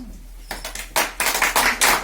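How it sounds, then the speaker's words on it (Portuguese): A church congregation clapping in praise, starting with a few isolated claps and building into louder bursts of rhythmic group clapping over two seconds. "Desocupa a sua mãe e dá uma salva de palmas para Jesus."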